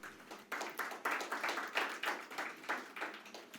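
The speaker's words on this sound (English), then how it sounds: "please give a thunderous round of applause to our panelists" An audience applauding panelists at a corporate IT conference, a steady run of many hands clapping at moderate distance that holds through the whole stretch.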